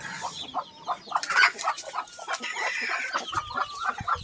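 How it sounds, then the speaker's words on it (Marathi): Desi village hens cluck busily and repeatedly in a steady, close chorus on a backyard poultry farm, with a few sharper squawks and a distant crowing note rising now and then. "अशा पद्धतीच्या प्युअर गावठी कोंबड्या आहेत खुड बसत असतात"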